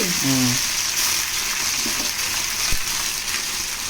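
Ingredients frying in hot oil for a home-style egg rice give a steady, close hissing sizzle throughout, with a brief voice near the start.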